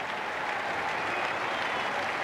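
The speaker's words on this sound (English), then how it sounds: "And a lovely hand from Graeme Pollock." Cricket crowd applauding batsman Graeme Pollock in a match against a Bradman's XI, a steady, dense wash of clapping that holds evenly throughout with no voices.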